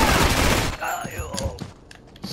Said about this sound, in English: I'm about to use that machine gun.